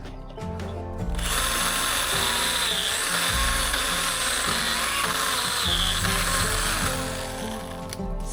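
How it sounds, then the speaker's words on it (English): A small chainsaw cuts timber on an awkward roof, a steady loud buzzing whine lasting several seconds, rising after a brief idle and dropping off near the end, with no talk. "a baby chainsaw is pointless, but up on an awkward roof is perfect for it"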